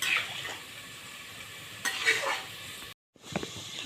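Onions fry in a pan for a mutton pulao, a moderate close sizzle with occasional stirring clinks of utensil on pan, broken by a brief silent gap near the end.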